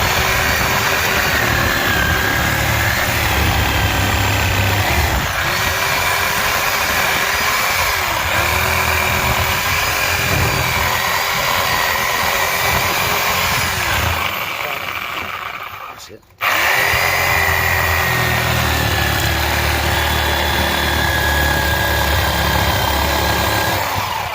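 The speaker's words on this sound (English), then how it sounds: "now I'm just literally running the saw around it" A power saw runs continuously while cutting around a scrap electric motor casing, a loud droning whine with slight pitch wavers, briefly cutting out near the end before starting again.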